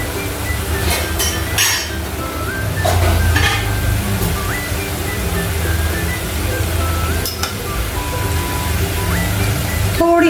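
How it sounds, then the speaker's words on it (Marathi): Spice masala frying in a pan for a green matki usal, a steady sizzle with scattered clinks and stirring knocks of a utensil against the pan, close and continuous throughout. "परत एकदा मसाला चांगला तळून तळून घ्यायचा आहे"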